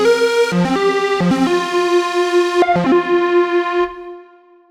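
A melodic techno synth lead preset, Lead Desire, plays a short bright harmonic phrase with gliding note changes, loud and alone, then fades out.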